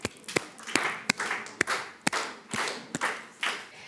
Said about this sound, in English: Please welcome them with applause.